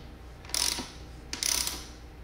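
Ohlins preload adjusters on the factory suspension of an Aprilia RSV4 1100 turned by hand, two brief close ratcheting clicks separated by a short pause.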